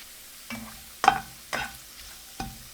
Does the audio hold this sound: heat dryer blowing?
no